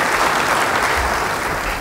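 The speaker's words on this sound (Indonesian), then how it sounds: "Yang setuju, beri tepuk tangan bagi Dia." Church congregation members clap loudly and together in praise of Jesus during a sermon, a short, full burst of crowd applause with no speech.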